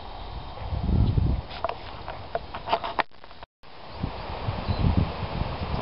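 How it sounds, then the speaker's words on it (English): Wind gusting through leaves out on an open moor in spring, a steady rustling roar with swelling gusts and some light patter, loud and close, briefly cutting out in the middle. "It's springtime and it's very windy."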